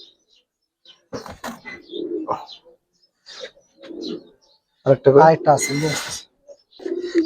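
Giribaz pigeons coo in short throaty bursts close by, broken by gaps of silence, while someone speaks intermittently over them.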